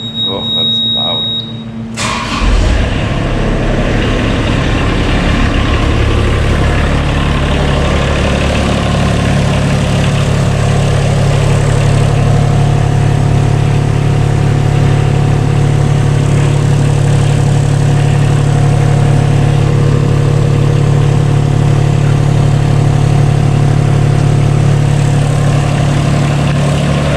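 A CAT 303 mini excavator fresh from its 250-hour service fires up after a couple of seconds, then runs on at a loud, steady, close-up idle drone.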